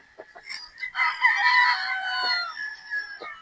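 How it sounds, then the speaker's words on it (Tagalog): Farm chickens cluck nearby while a rooster lets out one loud, drawn-out crow in the middle, with short clucks before and after it. "ang ating mga alaga manok dito"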